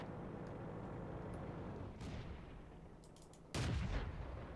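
Two booming shots from the short-barreled gun of a Matilda Black Prince tank in World of Tanks ring out over steady engine rumble, the second louder and closer than the first.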